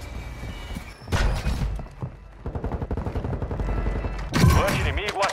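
Bursts of rapid gunfire ring out in Call of Duty: Modern Warfare II, crackling in dense volleys separated by short lulls, with a voice speaking among the shots.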